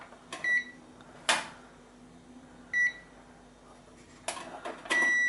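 A handful of short electronic beeps at irregular intervals, with clicks and clatter between them, ending in a longer sustained tone, from a multimeter continuity buzzer testing an oven fan's thermal cutout.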